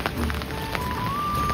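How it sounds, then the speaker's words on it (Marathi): Rain falls steadily in a Konkan village near Khed, Ratnagiri, a dense, even patter on surfaces close by, with a faint rising whistle-like tone running through it. "15 दिवस कंटिन्यू पाऊस चालू आहे"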